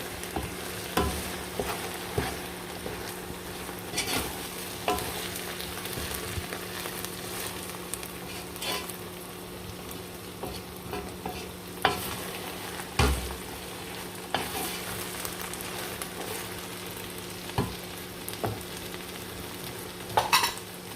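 Okra stew with seasoning and aromatics being stirred in a hot pan, a steady sizzle and frying hiss running throughout with occasional scrapes and clinks of the spoon, fairly close and without talk.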